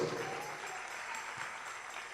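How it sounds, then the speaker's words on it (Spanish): Quiet, distant clapping from a church congregation applauding during a worship service, a soft continuous patter with no voices standing out. "Dale un aplauso al Señor con todo tu corazón."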